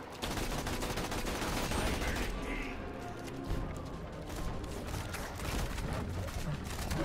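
Turret gunfire in Tiny Tina's Assault on Dragon Keep, a dense sustained burst of rapid shots and crashing impacts that thins out partway through, amid busy game noise.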